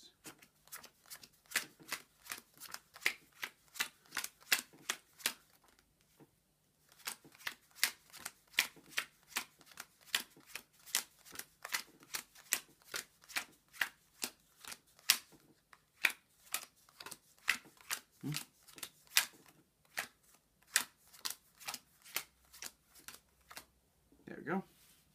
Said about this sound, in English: what I'm just going to do is go back and forth with the cards like this